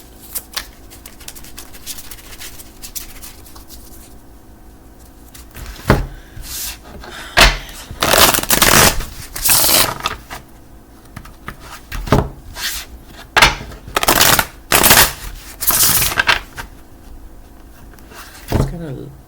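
Tarot cards are shuffled in a series of sharp, loud riffling bursts that cluster in the second half, separated by quieter gaps of soft handling.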